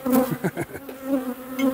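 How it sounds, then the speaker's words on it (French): Honeybees buzz close around the microphone at a beehive, several overlapping drones rising and falling in pitch as they fly past, loud and continuous. "J'en ai ras-le-bol d'avoir des abeilles qui me tournent pendant 3 quarts d'heure autour"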